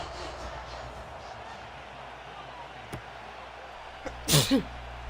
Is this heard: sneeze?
yes